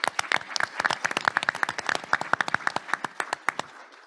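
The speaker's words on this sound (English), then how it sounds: "So if we can give them all a round of applause." Applause from an audience at a regional economic summit, a few dozen hands clapping close and crisp in a dense, irregular patter that holds steady for about four seconds before thinning out at the end.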